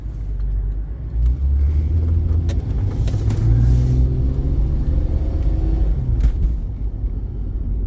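A car pulls out into busy traffic on Georgia Highway 53, its engine rumbling low and steady before building as it accelerates. Passing vehicles add to the broad, continuous road noise, and no one speaks.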